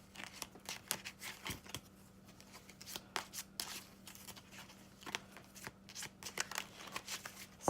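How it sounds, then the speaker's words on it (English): A small deck of twelve cards is shuffled by hand, giving soft, rapid papery riffles and slaps in uneven bursts, close and quiet with no talking. "Being there's only 12 cards, it's kind of hard to mix them up real well"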